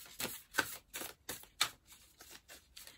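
Soft, rapid hand-over-hand card shuffling, a string of about nine papery bursts in a steady rhythm, close by with no talking.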